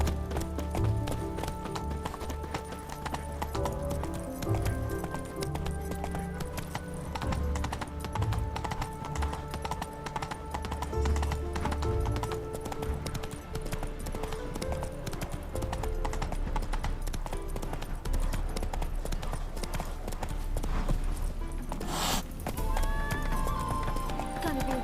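The horse Roach gallops in The Witcher 3 video game, with steady rhythmic hoofbeats running throughout and a brief whinny near the end.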